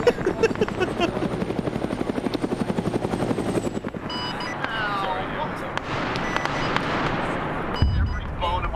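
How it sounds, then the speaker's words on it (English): A large aircraft flying overhead in a video game, with a fast, pulsing, rotor-like throb that gives way to a broader sustained roar, broken by occasional sharp bursts. "There's a giant plane in the sky"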